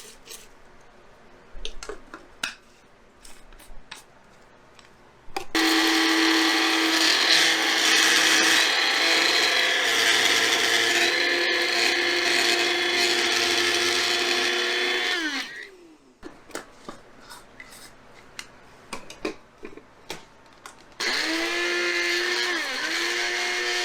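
A small knockoff bullet-style blender grinds dried tomato skins, whirring loudly in two long bursts, its motor pitch dipping as it spins down, with quieter clatter and handling noises between runs.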